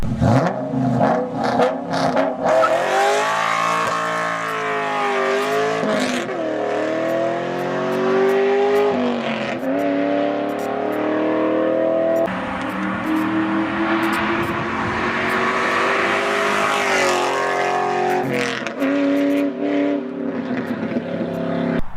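A Mustang's 4.6-liter four-valve V8 engine revs loudly and continuously, pitch rising and falling through several sweeps, close and sustained without pause.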